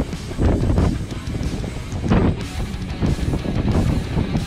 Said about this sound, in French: Petit vent de mer bien frais là.